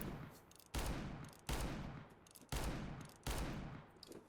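Revolver firing in the game CS:GO: four loud, sharp gunshots, each followed by a decaying tail, spaced roughly three quarters of a second apart with no talk.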